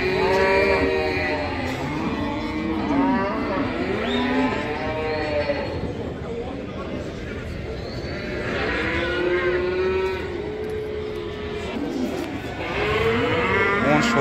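A cow with her calf lows again and again at a livestock bazaar, long drawn moos rising and falling over a dense, constant crowd din of other cattle and murmuring people.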